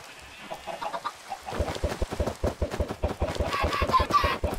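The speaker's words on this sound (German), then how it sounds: "Ja, die Hühner kommen raus" Minecraft chickens clucking in a video game, a run of short, repeated clucks in quick rhythm that grows louder and busier after a quiet opening, with several birds overlapping.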